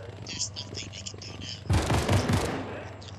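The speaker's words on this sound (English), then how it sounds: "Oh, I hear a gunshot." Weapon fire in the video game Splatoon 3 comes as a dense burst of rapid shots about halfway through. Quieter game sounds come before it, and fainter shots follow at the end.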